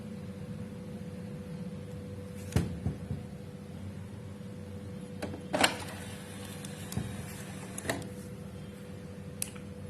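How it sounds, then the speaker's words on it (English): A Canon Pixma MG25 inkjet printer fitted with a continuous ink supply tank starts up to print, giving a low steady mechanical hum with a few scattered clicks and clacks. "it's the time to give some command to print and see what it is printing"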